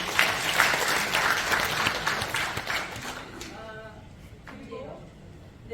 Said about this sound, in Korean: 그래도 큰 박수 부탁드립니다.